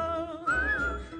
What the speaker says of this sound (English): When you meet temptation and the urge is very strong, give a little whistle.